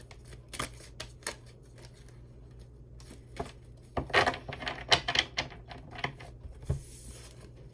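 Tarot cards being shuffled in several quick riffling bursts with pauses between, close and crisp against a quiet room, no voices.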